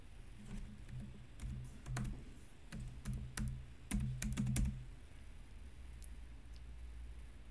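Typing on a computer keyboard while entering customer details in accounting software, short bursts of close, crisp keystrokes separated by pauses, quiet and alone without talk.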